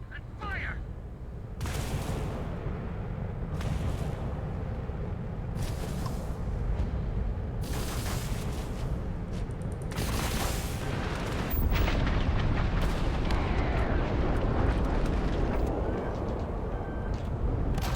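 Spaceship weapons in the space combat game Starfield firing in a rapid run of heavy booming blasts and explosions, loud and continuous with deep rumbling impacts throughout.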